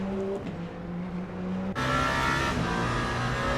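Proton Porsche race car engine in Le Mans Ultimate holds a loud, steady high-pitched drone that jumps sharply to a brighter, harder note partway through, continuous throughout.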